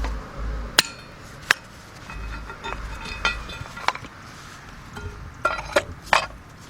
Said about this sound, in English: a hammer, and you set it right there. And you hit it a few times.